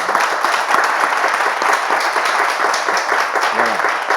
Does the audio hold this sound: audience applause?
yes